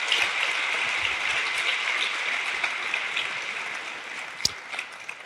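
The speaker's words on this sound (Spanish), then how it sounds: "Podemos darle un aplauso a este Dios que sigue haciendo milagros hasta el día de hoy" A church congregation applauding during a sermon, steady broad clapping from a large crowd heard at a distance, holding evenly and fading slightly toward the end, with one sharper clap standing out near the close.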